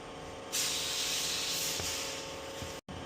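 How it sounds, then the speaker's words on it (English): Water sprayed from a spray bottle onto car window glass while fitting window tint, a sustained close hiss beginning after a short pause and running nearly three seconds, cut by a brief gap near the end. "we just spray a little more water, just so it comes up nice and smooth"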